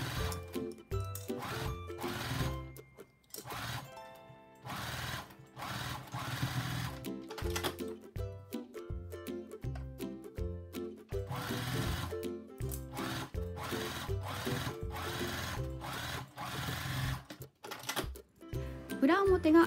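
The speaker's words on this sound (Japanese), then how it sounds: "上と下2箇所縫っていきます。" A sewing machine stitching the top and bottom seams of a fabric 3D face mask runs in rapid mechanical bursts with short pauses between them, loud and close, over faint background tones.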